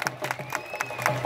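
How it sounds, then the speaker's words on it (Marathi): Crowd at an outdoor wrestling event in Jamner cheering and clapping in welcome, a loose wash of claps and shouts with a sustained tone running through it. "सर्वांनी जरा टाळी वाजवून स्वागत करा."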